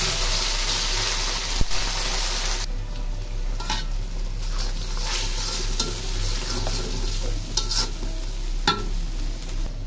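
Ginger, garlic and onion paste fries in hot oil for a chicken curry, producing a loud continuous sizzle broken by the scrape and knock of a spoon stirring in the pot, with no talking.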